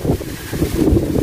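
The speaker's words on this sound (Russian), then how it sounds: "если бы ветра не было, было бы нормально" Wind buffets the microphone outdoors at a seaside hotel in Hurghada, Egypt, a loud, low rumbling roar that lasts about a second with no speech.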